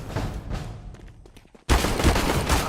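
Bursts of beaded-pistol gunfire in a shooting video game, dense rapid shots that cut out briefly and then return loud and continuous.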